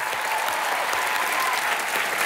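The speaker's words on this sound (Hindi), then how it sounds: "जोरदार तालियां एक बार" A studio audience at a TV comedy show applauds loudly and steadily, a thick, even wash of clapping with no talk over it.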